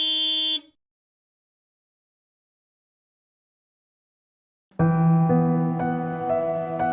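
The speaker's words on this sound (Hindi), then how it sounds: "कौन है जिसे चैन नहीं है, बार बार हॉर्न बजा रहा है?" Two car horn blasts: a short honk at the start, then after a long silence a longer, louder sustained honk, both harsh and close.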